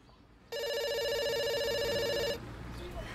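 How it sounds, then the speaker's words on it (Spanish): A telephone rings with a steady electronic trill in a home setting, loud and close, sounding continuously for about two seconds before cutting off, with faint room noise around it. "No vas a contestar el teléfono, mi amor."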